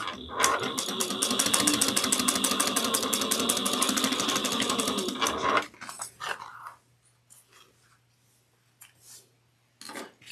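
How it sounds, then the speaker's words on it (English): A sewing machine runs at a steady fast clip for about five seconds while backstitching the seam of a fabric clutch wallet, then stops, leaving a few faint handling clicks and rustles. "I backstitch in the beginning and end of each stitch"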